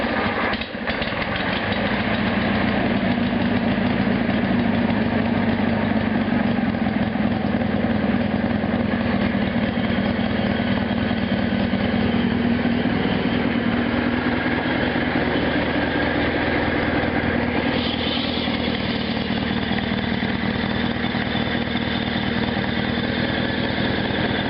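A GT/19.9 engine catches, then idles loud and steady for a long stretch with a rough, even rumble, being tested for a fuel pump fault.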